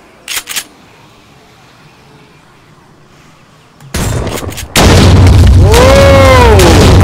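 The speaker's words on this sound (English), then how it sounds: "Let's see how big this explosion is." In the game 7 Days to Die, a couple of faint clicks, then a sudden loud blast erupts and holds as a roaring, rumbling wall of noise with a falling whine through it.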